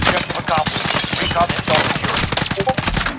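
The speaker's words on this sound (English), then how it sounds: "This guy's shooting from across the way" Rapid gunfire in Call of Duty Warzone, bursts of automatic shots cracking from a distance across the map, loud and continuous with dense overlapping reports and a voice talking over the shooting.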